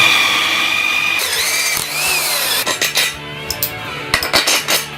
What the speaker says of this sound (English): work out where to drill our holes to fix the bearing into the frame